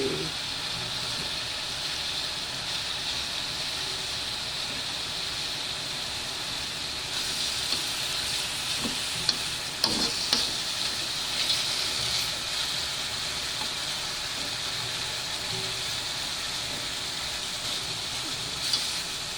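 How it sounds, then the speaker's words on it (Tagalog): Chicken pieces and eggs frying in oil in a pan for Filipino adobo, a steady close sizzling hiss throughout with a few brief pops and utensil knocks, no talking. "ipiprito lang muna natin siya"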